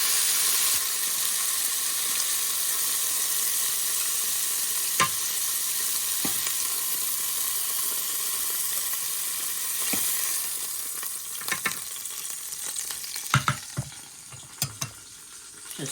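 Pork chops frying in a pan in an RV kitchen, a continuous close hissing sizzle, with a few clicks and knocks of handling toward the end and no voices.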